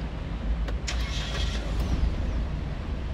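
A 2024 Suzuki XL7 Hybrid starts at the push of a button, a brief cranking burst settling into a steady idle hum heard from inside the cabin.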